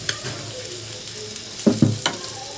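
Kalli baila fish wrapped in banana leaf fries with a soft, steady sizzle in a pan, then a few close, hollow knocks and scrapes as it is flipped.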